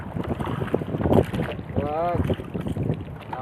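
Strong sea waves around a small fishing boat, a rough rushing swell mixed with heavy wind buffeting, with someone speaking briefly over it.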